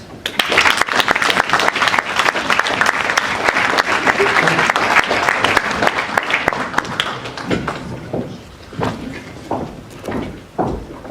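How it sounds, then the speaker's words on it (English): A conference closing ceremony audience gives dense, loud applause that continues for several seconds and then thins into scattered claps, with some voices mixed in. "Warm round of applause for Neda Mat."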